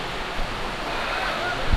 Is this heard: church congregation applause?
no